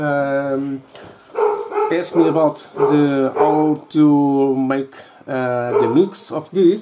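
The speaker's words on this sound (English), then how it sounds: "Sorry about my dog." A dog barks and whimpers indoors in short bursts, mixed in with a person talking steadily over it.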